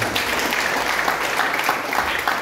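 A church congregation claps together during a Filipino-language sermon, a steady, moderately loud wash of applause throughout.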